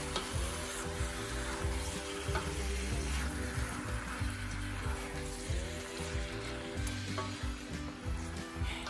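Two kilos of pork belly sizzling in a pan while being stirred, a continuous moist frying hiss with scraping and clacking of the utensil against the pan, a low tonal hum persisting in the background.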